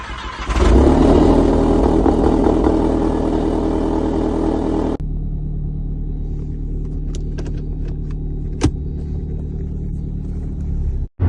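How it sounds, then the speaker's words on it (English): Audi TT cruising on the M6 motorway at 70 mph in seventh gear around 2000 rpm, a steady loud low engine and road drone inside the cabin that abruptly drops to a quieter hum midway, with a few faint clicks. "we're sat at 70 mile an hour in 7th gear right now, doing just over 2000 RPM"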